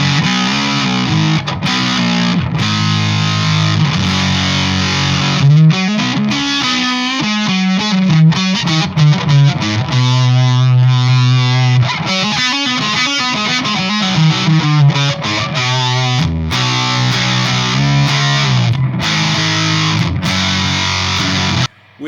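Electric guitar run through a Way Huge Swollen Pickle Jumbo Fuzz MKIII pedal with all controls at noon, playing thick, saturated fuzzed chords and single-note riffs, loud and continuous, with sustained notes and brief gaps between phrases.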